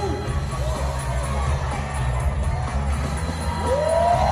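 Crowd cheering and shouting at a Red Bull BC One breakdance cypher in Denver, a steady roar of many voices running throughout under loud music, with a rising whistle-like tone near the end.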